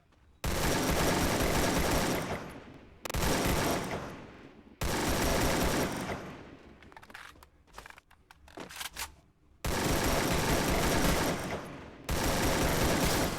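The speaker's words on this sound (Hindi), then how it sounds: "मैं इस पर गोलियाँ दबाए दबाए जा रहा हूँ, लेकिन मर ही नहीं रहा था बंदा" Gunfire in the video game Free Fire comes as long, loud automatic bursts separated by short pauses, with sparser scattered shots between them.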